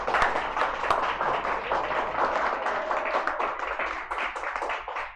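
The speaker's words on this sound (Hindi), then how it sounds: "इस बार चाहिए तालियां।" Students in a classroom clap together in a lively, uneven burst of applause, close and fairly loud, continuing steadily throughout with scattered sharper claps.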